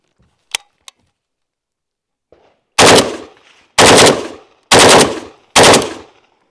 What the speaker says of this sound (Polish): Mini beryl. 10 sztuk amunicji. Przełącznik ustawiony na serię 3-strzałowe.